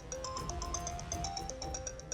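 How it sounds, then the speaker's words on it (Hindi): A phone ringtone rings in an indoor drama scene as a repeating electronic melody with regular pulses, moderately quiet and without talk. "ये फोन कहाँ से आ रहा है?"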